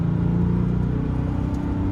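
A 1998 Porsche 911 Carrera S, the air-cooled flat-six, is driving a winding back road on a cold day after road salt. A steady, loud low engine rumble and drone runs throughout.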